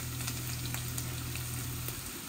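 Onions dropped into a pan of hot oil with browned garlic sizzle in a continuous, close crackling hiss with scattered pops, steady throughout with no talking.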